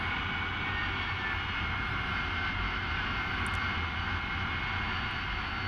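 AV-8B Harrier jet taxiing toward the runway in the DCS flight simulator, a steady, loud engine roar that holds evenly throughout with no voices over it.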